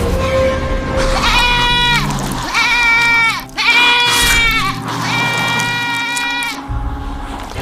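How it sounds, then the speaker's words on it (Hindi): A goat inside a cave bleats loudly as a horror-story sound effect, with several long wavering bleats in quick succession, prominent and close, with no speech over them. "एक बकरी घूमती हुई गुफा के अंदर आ गई है।"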